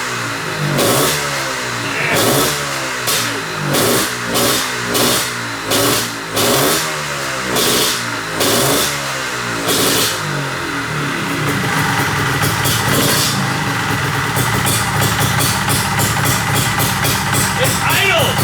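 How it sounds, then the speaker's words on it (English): A Honda Odyssey FL350 off-road buggy engine cranks and fires, running in a rhythmic pulsing pattern, then settles into a steady loud idle nearby, with people talking over it. "it fired right up and it idled"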